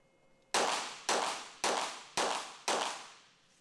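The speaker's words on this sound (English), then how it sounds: "And on the right, shooting right now, that is Jean Quiquempois of France" Five sharp pistol shots ring out at regular half-second intervals during a Universiade shooting competition, each a loud crack with a long reverberant decay in an enclosed range, with no voices over them.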